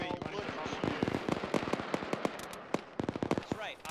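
Gunfire in the military video game Arma during a tank fight, with dense, rapid cracking shots and bursts, some near and loud, others farther off, overlapping in a continuous firefight.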